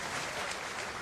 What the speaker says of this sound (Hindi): जोरदार ताली बजाकर नेताजी का स्वागत करें।